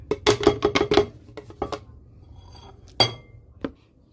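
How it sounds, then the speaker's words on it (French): Chopped onion poured into a bowl, a quick rapid run of clinks and taps followed by a few sparser knocks and scrapes of utensil on dish, close and clear. "Je vais verser l'oignon dans le bol."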